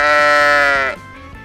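A single loud, close sheep bleat, a long wavering nasal cry that breaks off abruptly after about a second into quiet.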